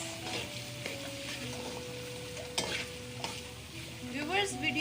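Chana pulao with crushed chilies gets stirred in a pot, a steady spoon scraping over a soft sizzle, with a few sharper clinks and a louder scrape near the end, no talking.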